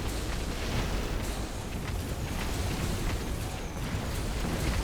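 A giant missile explodes in the strategy game Mechabellum, a dense, sustained roaring blast rumbling steadily for several seconds amid continuous battle noise.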